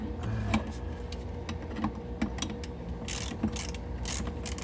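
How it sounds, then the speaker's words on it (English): A ratchet clicks in short bursts while tightening the driveshaft center bolts on a Mercedes W222, with a quiet mechanical ticking near the tool and no talk. "So I'm going to tighten the center bolts first."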